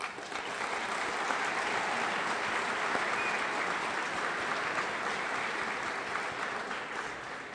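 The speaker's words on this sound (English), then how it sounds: "Please join me in a warm round of applause for all of them" A large audience claps in a steady, sustained round of applause at a regional business forum, the dense clatter holding evenly loud throughout with no voices over it.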